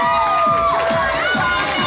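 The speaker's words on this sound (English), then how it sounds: "Give a big round of applause" Audience at an ICN Sydney Superbodies 2024 Miss Fitness Model Open bodybuilding show cheers and shouts loudly and continuously, a dense crowd roar with rising whoops filling the whole moment.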